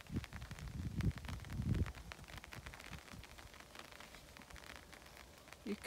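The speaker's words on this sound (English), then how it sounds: "You can probably hear the rain on the umbrella." Rain pattering on an umbrella outdoors during a wet picnic, a steady soft hiss of light drops close overhead with some louder rustling bumps near the start, no talking.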